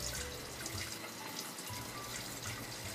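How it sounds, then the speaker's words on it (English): Tap water running steadily over a KitchenAid siphon coffee filter being rinsed in a sink, a close, continuous splashing hiss with small fluctuations, no voices. "All you do is just rinse it off."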